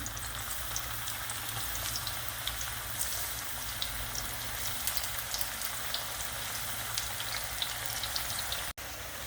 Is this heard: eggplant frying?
yes